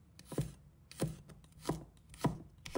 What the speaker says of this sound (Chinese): 准备1块生姜，把它切成片；几个大蒜，切成片